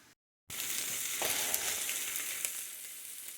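Checkers or Rally's style French fries frying in hot oil, a steady close sizzle with small pops and crackles that starts after a brief silence.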